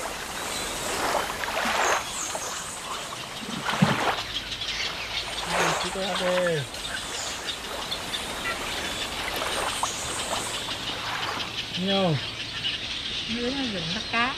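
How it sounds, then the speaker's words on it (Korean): Birds chirp and call repeatedly over a steady wash of water and a faint motor hum along a canal in Vietnam's Mekong Delta, with a voice speaking at moments. "수로를 누비는 내내 물소리와 새소리가 음악처럼 따라옵니다."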